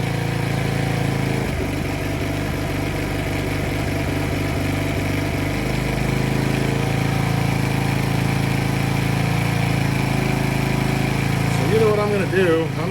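A Polaris Outlaw 50 ATV engine with a timing problem runs steadily close by, with a stretch of rapid uneven pulsing early on and a voice talking over it.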